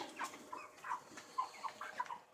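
Meat chickens raised on a farm cluck softly in a short run of irregular, close-up calls, with no one talking.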